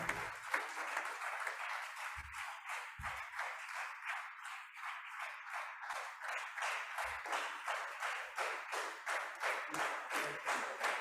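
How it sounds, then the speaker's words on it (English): An audience at a summer school valedictory session claps steadily in a room, a rhythmic, continuous patter of many hands with a few brief low thumps, without talk over it. "maximum claps I am hearing"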